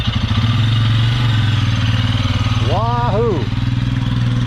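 A Royal Enfield Scram 411 motorcycle rides away up a hill, its engine a steady, close, low drone from start to end, with a man whooping loudly over it partway through.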